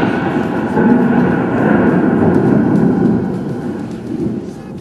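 Thunder from a lightning storm rolls as a loud, continuous low rumble lasting several seconds, broad and heavy, slowly swelling and fading with no clear separate cracks.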